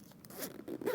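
A zipper being pulled and handled while sewing a crossbody bag, with quick close raspy zipping strokes, fairly soft and alone.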